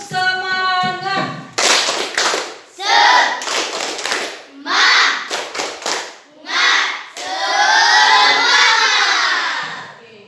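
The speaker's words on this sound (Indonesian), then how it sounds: "Tepuk semangat." Schoolchildren in an Islamic studies classroom perform a rhythmic spirit clap, bursts of group clapping in short patterned bursts separated by brief pauses, mixed with shouted voices and a teacher's voice at the start.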